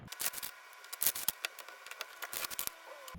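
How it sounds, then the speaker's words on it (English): A deck of cards being shuffled close up, with crisp, papery riffling bursts and soft rubbing in irregular clusters separated by short gaps, and no voices. "while I'm shuffling"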